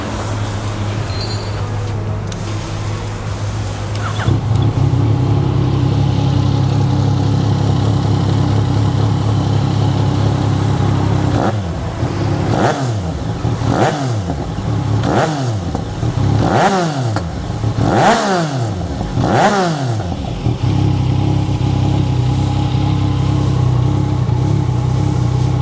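A Yamaha Tracer 900 motorcycle with an aftermarket exhaust idles with a deep rumble, then gets about six sharp throttle blips that swell and fall back, loud and close, before it settles to idle again.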